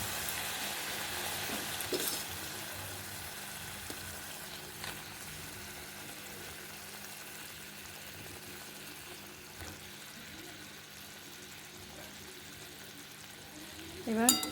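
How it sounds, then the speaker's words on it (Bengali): Potatoes and pointed gourd frying and being stirred in spiced oil in a home kitchen, a steady soft sizzle with occasional scraping stir sounds, fairly quiet throughout. "চলো এবার আমি ওই আলু আর পটল ভাজা দিয়ে দেবো"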